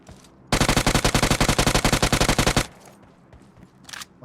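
A UMP submachine gun fires in the mobile shooter BGMI, one rapid, even burst of about twenty shots lasting two seconds, loud and close, followed by quieter game ambience.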